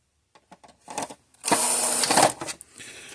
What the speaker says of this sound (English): Now let's get the screws put back in it.